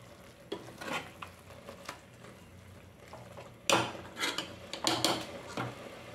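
Sambar ingredients being stirred and fried in a pan, with scattered scraping and clattering strokes of a spoon against metal, an irregular rhythm that grows louder and busier toward the end, over a faint steady sizzle.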